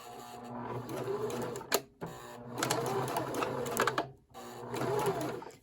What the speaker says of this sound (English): So let's just sew it a little bit and we'll see what a nice line it makes.